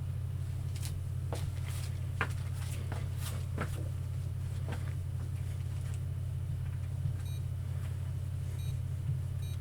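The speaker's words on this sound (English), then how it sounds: "Faster beeping. That does not sound good." A steady low electrical hum runs throughout, with a detector's scattered sharp electronic beeps and clicks popping over it at irregular intervals.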